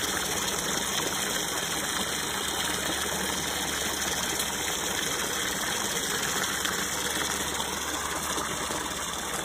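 A water pump pushes a spray through a 100-foot hose at about 100 PSI, a steady loud hiss and rush of water over a constant motor drone, continuous with no speech.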